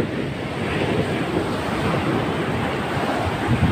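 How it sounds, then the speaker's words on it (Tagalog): Large ocean waves surge and crash near beached fishing boats, a continuous broad roar with wind buffeting the microphone, loud and close with no talking. "Kalalaki ng alon."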